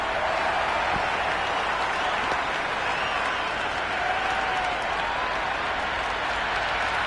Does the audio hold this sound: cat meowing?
no